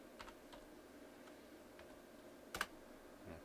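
A web address being typed on a computer keyboard, with a few faint, scattered key clicks and one louder double tap near the end, in a quiet room.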